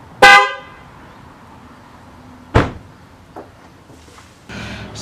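A Lexus LS 460 horn fitted to a Lexus IS300 gives one short, loud honk, then a second sharp burst a couple of seconds later. Softer clunks and faint rustling follow nearby.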